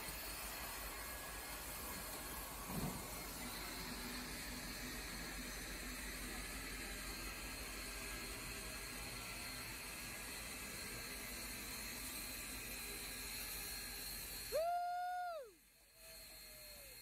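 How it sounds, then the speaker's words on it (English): Steady broad hiss of steam venting from a steam train, heard at a moderate distance. A short whistle with a falling pitch sounds near the end, and no one speaks. "Just look at that steam come out."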